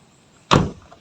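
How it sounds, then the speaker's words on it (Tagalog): A car door on a manual car shuts with a single sharp thud that rings out briefly and fades, close and loud, with no talking. "At makikita rin natin dito ang pinto."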